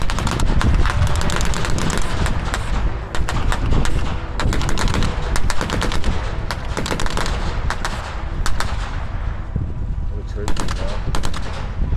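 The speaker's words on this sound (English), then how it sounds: "The German half-track in front of you has a small pack gun on it, which is also firing." Rapid machine-gun bursts fire from a German half-track's small mounted gun and American half-tracks during a World War II military reenactment battle, dense overlapping cracks and rattles continuing loudly and steadily throughout.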